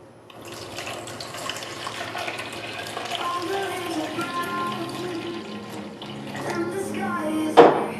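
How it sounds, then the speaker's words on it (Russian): Water runs steadily from a tap into a container over sourdough starter dough for a levito madre, a continuous splashing pour with a sharper burst of splashing near the end. "И заливай водой."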